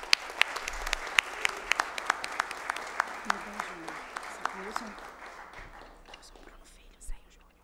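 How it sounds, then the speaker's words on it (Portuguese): Applause fills a formal solemn session at a college ceremony, a steady crowd clapping with sharp individual claps standing out, then fading toward the end. "Uma salva de palmas."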